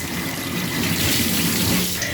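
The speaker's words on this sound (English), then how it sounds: "We're going to turn a little water on." Water runs from a bathtub faucet in a steady, close, rushing stream that stays even throughout with no talk over it.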